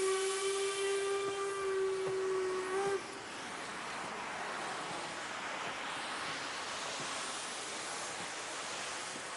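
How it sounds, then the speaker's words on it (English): LMS Black 5 steam locomotive on the national network sounds a steady whistle for about three seconds, then passes with a broad rushing hiss and rumble that fills the rest of the clip. "let everyone delight in the magnificence that is a steam locomotive on the national network"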